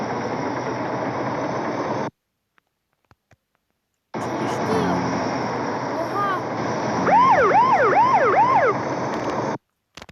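Loud wailing police car siren with rising and falling sweeps, cut off briefly by silence, then returning alongside engine noise and a few voices.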